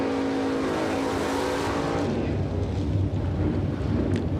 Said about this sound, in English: We have a drag race.